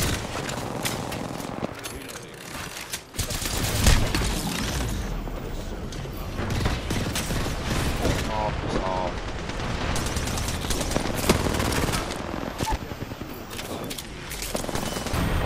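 Gunfire from an Apex Legends-style video game, with dense bursts and booms packed throughout the stretch under steady game noise, while players talk over it.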